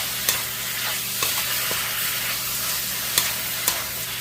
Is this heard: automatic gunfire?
no